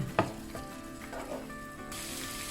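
Thai panang curry paste simmering with coconut cream in a pan, a brief close bubbling sizzle that opens with a quick stir and clink and then turns to a brighter hiss.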